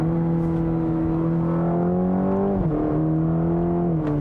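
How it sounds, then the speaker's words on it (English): A 2020 Cadillac CT4-V, a 325 hp rear-wheel-drive small sport sedan, drones steadily under load, then its engine note drops briefly at two upshifts, each followed by a faint exhaust pop. "It makes a nice little pop when it upshifts"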